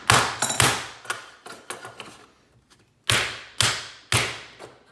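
A hammer, called a Bell telephone persuader, strikes through plywood onto sheet metal being bent for a toolbox, landing loud close thuds in clusters of two or three with pauses between.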